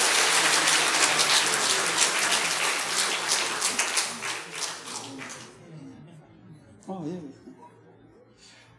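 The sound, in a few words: audience applause at a graduation ceremony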